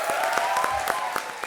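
Studio audience of a Hindi TV comedy show bursting into loud applause, dense steady clapping with a few sharper individual claps standing out, close and continuous through the moment.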